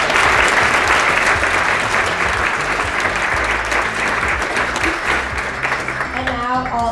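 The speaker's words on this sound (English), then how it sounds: "I just want to give a huge round of applause to all members of our marketing and design team" Loud, sustained clapping from a conference audience at a 2019 kickoff event, a thick steady roar of hands that fades slightly near the end as a voice begins to speak.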